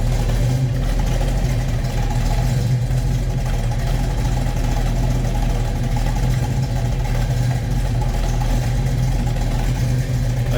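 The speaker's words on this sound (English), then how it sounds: "You can hear it's a good sounding car." A deep, steady rumble of a 1972 Dodge Challenger V8 idling, loud and continuous with a low throbbing burble and no talking.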